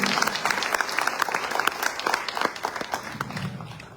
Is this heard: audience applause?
yes